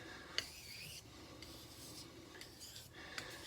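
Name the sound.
kitchen knife stroked on a sharpening stone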